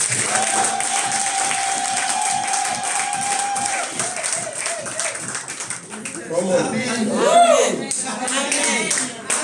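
A church congregation claps and cheers loudly during a prophet's service, a swelling wash of applause and shouts under a preacher's amplified voice and a held sung tone, rising to a peak near the end.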